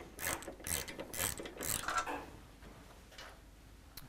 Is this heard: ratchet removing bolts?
yes